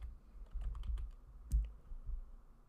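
Clicks from a computer keyboard as text is typed while building sales measure buttons, a quick run of light, close keystrokes with one firmer tap near the middle.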